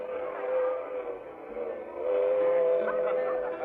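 Train riding sound effect in an old radio drama: a steady rumbling rail noise with a faint whistle tone running through, continuous and moderately loud throughout.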